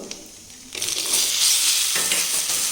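Pieces of drumstick tumble into hot tempering oil with seeds and spices, setting off a sudden loud, broad sizzle that swells and keeps hissing steadily, close up and with no voices.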